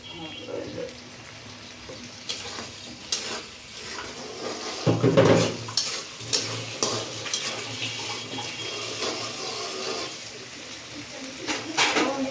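Pigeon meat with spices sautéing in a pan after a splash of water, sizzling and hissing with stirring scrapes and a louder bubbling burst midway, close by, with occasional talk.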